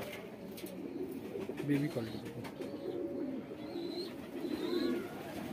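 Madrasi baby pigeons coo softly and repeatedly nearby while someone talks over them throughout.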